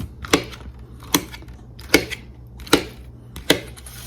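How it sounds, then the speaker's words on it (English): Knife chopping cherry tomatoes and onion on a board for guacamole: five sharp, evenly spaced chops about a second apart, close and clear with no talk. "we're going to chop them up."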